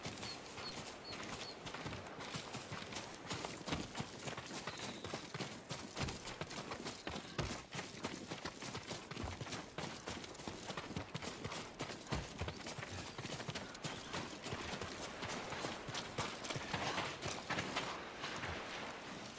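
Horse hooves clip-clopping in the samurai game Ghost of Tsushima, a continuous run of close, rhythmic hoofbeats at a steady gait, with faint birdsong behind.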